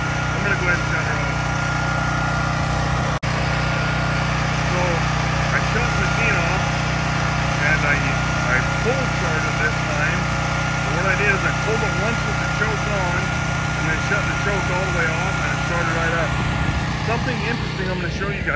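A small propane generator fed from a house tank runs steadily at a constant idle, its engine hum droning loud and unbroken throughout while someone talks over it.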